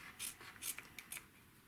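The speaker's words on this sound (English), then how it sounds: "Now we cut this in half along the diagonal line" Scissors snip through quilt fabric along a drawn diagonal line between two stitched seams, giving three quick, quiet crisp cuts spaced a moment apart with no talk.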